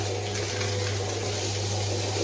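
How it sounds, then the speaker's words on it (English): Scorching hot water runs steadily from a tap into containers, a continuous close rushing hiss with a low hum beneath and no talking. "Just fill that to the brim, and it's scorching hot water."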